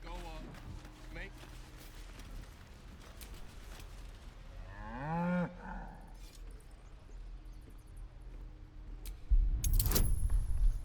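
A cow in Baldur's Gate 3 gives one long mid-length moo near the middle, amid game ambience with a scraping, jangling burst near the end and talk around it.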